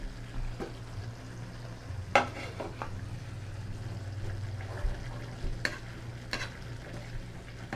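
Potatoes and carrot go into menudo in a pan, with a low steady sizzle and occasional clinks and stirring scrapes, no voices.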